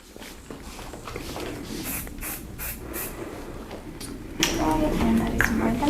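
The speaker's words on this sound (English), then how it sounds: "Are we doing any hairspray or anything, Jillian?" Hairspray hisses in a salon in a few short, light bursts, close and soft, with background shuffling and a voice joining near the end.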